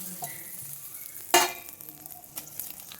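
Urad dal, pepper, roasted gram and curry leaves frying in hot oil give a faint, steady sizzle, broken once by a short, sharp crackling burst, with no talking.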